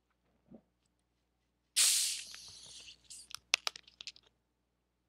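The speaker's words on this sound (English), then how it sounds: "I'm about to crack open this Coke right here." A can of Coke cracked open: a short click, then a loud sharp hiss of escaping gas that fades into a few brief crackling fizz pops.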